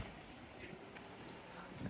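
Strong wind buffets the microphone outdoors on a seawall at Teignmouth, a steady low roar with broadband rumble throughout and no clear talk.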